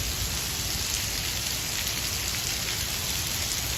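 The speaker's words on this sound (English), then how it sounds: "If it was sprinkling, I'd probably make a run for it, but it's absolutely pouring." Heavy monsoon rain pours down steadily at a park, a dense, continuous broadband hiss of drops drumming on surfaces with no pauses and no talking.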